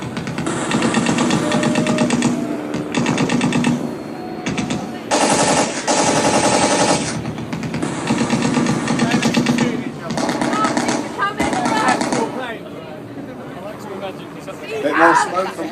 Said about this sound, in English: you'll hear the sound of those very powerful engines in both the Sopwith and the Fokker triplanes